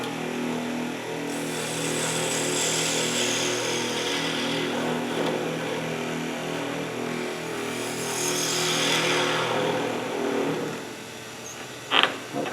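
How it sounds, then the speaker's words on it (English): Spindle gouge cutting on a wood lathe at a library demonstration, a steady whirring hum of the spinning workpiece with scraping cut noise rising and falling, ending in a couple of sharp knocks. "Changing to a spindle gouge."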